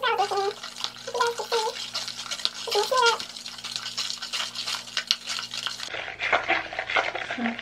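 Bentonite clay mask being stirred with castor oil in a bowl, giving a steady scraping, swishing mix with repeated strokes close up, some voice and hum in the background.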